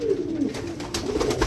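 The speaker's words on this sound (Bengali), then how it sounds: "ওই যে দেখেন ওইদিকে গেছে গা কবুতর" Pigeons coo in a low, continuous murmur that fills the short stretch, steady and moderately close, with no voices over it.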